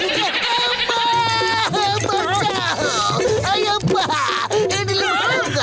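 A cartoon goat bleats in long quavering cries that pitch up and down over several seconds, loud and continuous, mixed with animated voices and background music.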